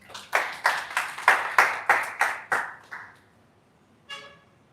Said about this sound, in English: Let's clap for this product.